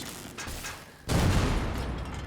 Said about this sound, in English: Oh, fucking hell, it's turrets.